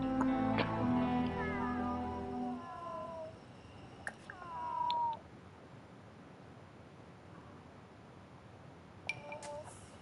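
Sims 4 cat sounds: a long wavering meow at the start, then shorter chirping mews around the middle and near the end, fairly close with quiet gaps between calls.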